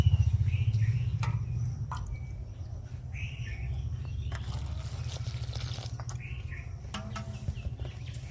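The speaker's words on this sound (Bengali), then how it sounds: "এই জল আমি অল্প অল্প করে দেব আর" Warm water is added little by little to dough for Bengali khasta goja, giving soft trickles, drips and wet squelching of kneading. The sounds are quiet and close, over a low background rumble.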